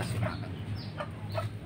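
Clucks from an ayam kapas, an ornamental silkie-type chicken with a black face, kept in a stone coop with other fancy breeds. Several short clucks come over a steady low background hum, at moderate distance.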